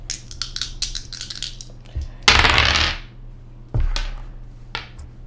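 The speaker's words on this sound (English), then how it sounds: "Those dice are so loud." Dice in a tabletop roleplaying game: a quick run of small rattling clicks, then a loud clattering tumble across a table, followed by another sharp rattle and a few scattered ticks in a quiet room.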